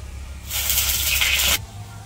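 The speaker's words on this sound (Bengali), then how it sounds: "কড়াইয়ে তেল দিয়ে দিই" Cooking oil poured into a hot wok in a village kitchen gives one steady, bright hiss lasting about a second, close and fairly loud, then cuts off sharply into quiet room tone.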